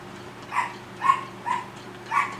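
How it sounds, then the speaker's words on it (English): Four separate dog barks ring out at a steady, unhurried rhythm, each a sharp mid-distance woof standing out over a quiet background with no one talking. "I'm sorry about the dogs barking."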